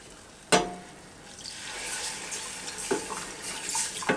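White wine poured into a butter-and-flour roux to deglaze the pan, a sharp splash followed by bubbling sizzle and gentle stirring scrapes, moderately close with a second clink near the end.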